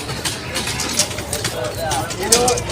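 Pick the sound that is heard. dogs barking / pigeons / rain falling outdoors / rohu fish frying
pigeons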